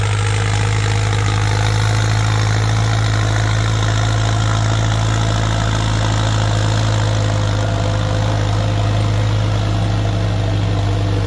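A Massey Ferguson turbo tractor engine, a 5000 or 6640 model, runs steadily under heavy load while pushing soil, likely in second gear, a loud continuous deep rumble with no pauses and no voices.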